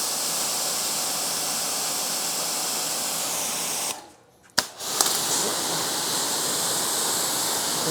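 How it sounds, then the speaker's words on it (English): A power washer rinses a black car with a steady, close hiss of spray. It breaks off briefly, then resumes at the same level. "do a quick power wash rinse"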